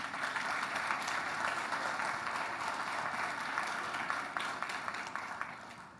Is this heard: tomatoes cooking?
no